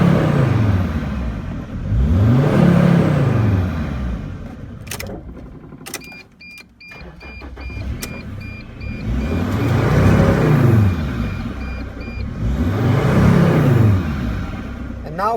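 Mercedes Sprinter van engine with a turbo underboost fault, revved several times from idle. Each rev climbs and slowly winds back down, close and loud, with a quiet gap of small clicks between the revs.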